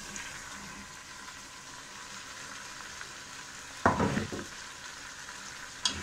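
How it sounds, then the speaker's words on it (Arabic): Boiled tripe tipped into tomato sauce in a pan for Italian-style trippa, a steady soft sizzle with a brief louder clatter and stir near the middle and another short knock near the end. "احنا كده هنحط بقى الكرشه بتاعتنا المسلوقه"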